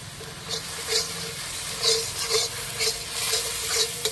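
Shrimp and pumpkin stirred in a frying pan for Bengali-style chal kumro chingri, a steady sizzle under repeated soft scraping strokes of a spatula, close and fairly loud, with no talking.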